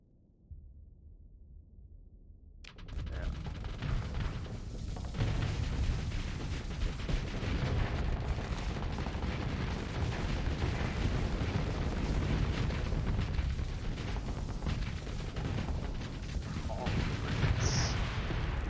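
Sabot missiles firing on auto in the space combat game Starsector: a quiet start gives way at about three seconds to a dense, continuous roar of launches and blasts that keeps up steadily to the end.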